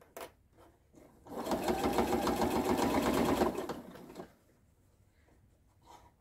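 Sewing machine stitching binding around the edge of an oven mitt, a close, rapid mechanical whirr lasting about three seconds, with brief handling sounds before and after.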